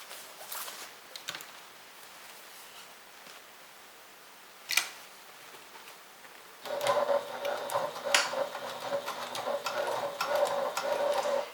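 A sewing machine stitches binding onto a makeup bag, quiet at first with a single sharp knock, then running steadily with a close, whirring mechanical hum for the last few seconds.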